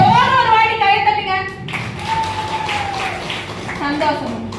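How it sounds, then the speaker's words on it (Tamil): A crowd at a Tamil stage performance breaks into sustained applause right after a host speaks, the clapping continuing steadily for a few seconds. "ஜோர ஒரு வாட்டி கை தட்டுங்க."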